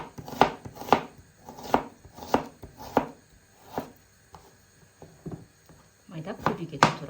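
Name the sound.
finely chopping onion with a knife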